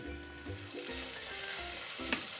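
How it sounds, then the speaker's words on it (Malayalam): Prawn roast masala sizzling and frying in a pan, with steady hiss and intermittent scraping stirs at an even rhythm, close and moderately loud, no voices. "ഇളക്കി നമുക്ക് നന്നായിട്ട് വഴറ്റിയെടുക്കുന്നത്"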